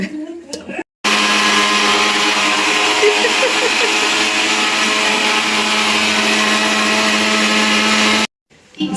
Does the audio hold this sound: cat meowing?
no